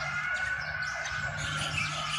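A siren wails from a passing emergency vehicle outside the Phra Thinang Tri Mukh palace hall, a steady continuous tone held at moderate level over distant street ambience for the whole stretch, with no talk.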